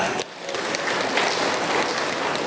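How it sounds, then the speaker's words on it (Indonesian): A crowd at a school graduation ceremony claps steadily, dense and continuous applause filling the whole stretch without a break. "Tepuk tangan buat anak-anak kita."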